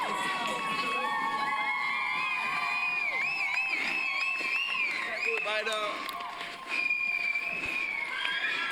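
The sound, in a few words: spectators cheering runners during a road race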